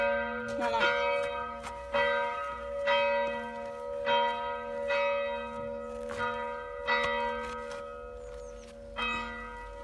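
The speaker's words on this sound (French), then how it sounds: "il y a toujours des cloches de l'église qui sonnent sans arrêt" Village church bells ring in a slow, regular series of resonant strikes with long ringing tails, fairly close and clear over faint outdoor background.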